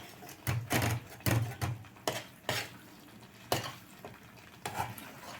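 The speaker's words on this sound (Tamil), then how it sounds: "பச்சை வாசம் போகிற வரைக்கும் நல்லா இப்படி கிண்டி கிண்டி விடுங்க" Green coriander chutney being stirred in a pan over medium heat, with repeated close scraping and knocking strokes of a spoon against the metal in an uneven rhythm, and no voices.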